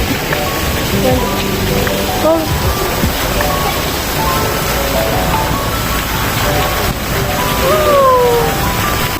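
At a lake park, water pours and splashes off a turning boat wheel as a continuous broadband rush under a voice that speaks throughout.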